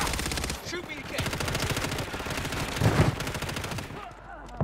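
Rapid automatic gunfire rattles almost nonstop in a Call of Duty match, dense and loud, with a brief pause near the start and a final shot at the end.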